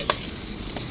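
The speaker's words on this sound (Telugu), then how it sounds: "రెడ్డన్న అయితే మష్రూమ్ కర్రీ అయితే చేస్తున్నాడు" Mushroom curry cooks in a pan with a steady, close sizzle, broken by one faint clink of a utensil.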